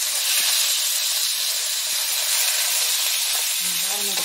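Pork sizzles loudly and steadily in a hot pan, a dense, continuous hiss of frying with faint clinks and stirring sounds underneath.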